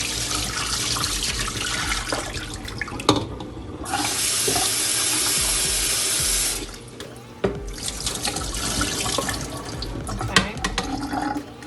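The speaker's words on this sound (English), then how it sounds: "So you're gonna rinse it off." Soaked beans for Jamaican stew peas rinsed under a running kitchen tap, a steady loud rush of water with splashing and clatter, rising to a stronger gush midway, with a brief spoken word.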